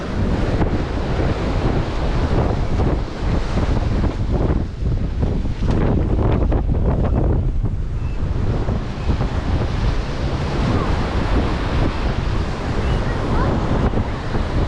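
Strong wind at a kitesurfing beach roars steadily against the microphone, a loud continuous buffeting rush with surf-like noise throughout.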